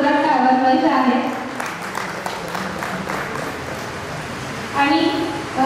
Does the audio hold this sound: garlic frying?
no